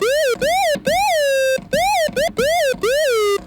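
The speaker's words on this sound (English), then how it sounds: "all we're hearing is what Oscillator 2 is doing by itself." A bright, buzzy tone from Oscillator 2 of a Behringer Odyssey synthesizer with sync off swoops up and down in repeated arcs, short wailing bursts separated by brief gaps, loud and close like a siren.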